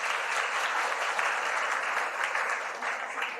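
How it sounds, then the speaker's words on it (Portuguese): An auditorium audience claps steadily, a dense, even patter of many hands heard from within the room for a few seconds. "uma salva de palmas para ela"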